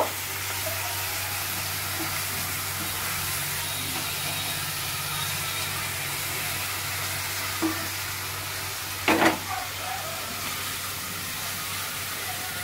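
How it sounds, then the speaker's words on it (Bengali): A steady, hissing sizzle of garlic paste frying in a pan continues throughout, broken once by a brief scrape of stirring. "এই সময় আমি দিয়ে দিচ্ছি রসুনের পেস্টটা। রসুনটা একটু ভালো করে ভেজে নেব।"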